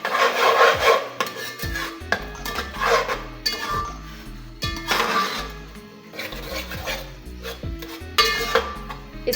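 A spoon stirs bhindi chicken masala with added yogurt in a pot, giving repeated scraping and clinking against the metal in uneven strokes, close and fairly loud.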